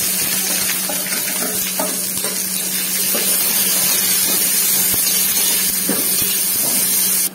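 Onions and green chillies sizzle in a hot pan for an aloo bhuna, giving a steady, loud, close frying hiss throughout with faint stirring clicks and no voices.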